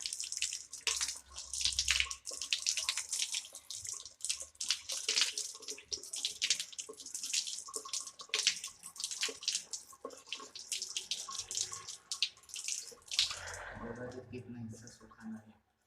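Tap water runs steadily while hands and fingers are rinsed during wudu ablution, a continuous splashing hiss close by, with someone talking over it most of the time.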